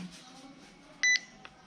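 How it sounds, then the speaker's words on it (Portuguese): A single short electronic beep sounds from a device against a quiet background, followed by a faint click. "Vou segurar de novo o Alt, ó, ele vai fazer o bip."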